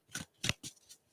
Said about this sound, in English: So I'm just going to give these a little bit of a shuffle before we start.